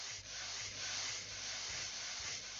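A grill is scrubbed clean in the game Minetest, a continuous harsh rubbing and scraping sound, loud and close, with slight swells in intensity.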